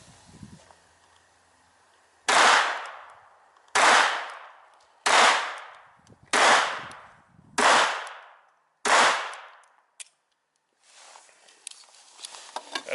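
A small Colt six-shot revolver fires six loud, sharp reports at steady intervals of a little over a second, each with a short decaying echo, followed by quieter clicks and handling noise.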